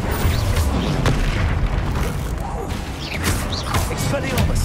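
Spell casting in the Hogwarts Legacy video game, with repeated booming blasts and magical bursts over a dense, loud battle bed, a voice calling out spells throughout.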